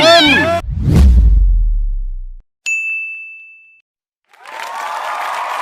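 A cat meows loudly and close at the start of a Silver Cat chemical fertilizer advert, followed by a bright ringing ding and then someone speaking.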